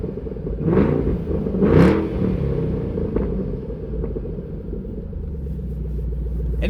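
Exhaust of a 2012 Shelby GT500 with a 5.4 liter supercharged V8, a deep, loud rumble with a couple of quick revs that then settles into a steady idle.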